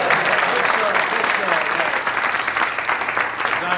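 A crowd claps steadily at a children's party before a hockey match, a dense wash of applause that holds throughout and fades slightly toward the end.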